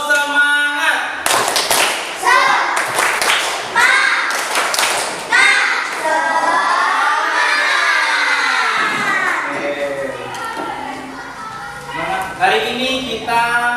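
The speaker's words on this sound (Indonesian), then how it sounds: "Tepuk semangat." Schoolchildren in a classroom do a rhythmic spirit clap, sharp patterned claps and taps mixed with loud chanting and shouted voices, the group singing along between bursts of clapping.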